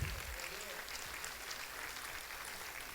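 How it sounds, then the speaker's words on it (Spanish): Church congregation applauding during a sermon, a steady dense wash of clapping from many hands, continuous and even throughout, somewhat distant and without clear talk. "Bendígalo con su ofrenda de palmas"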